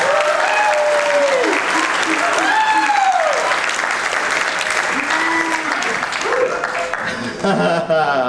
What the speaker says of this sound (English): This is when you applaud.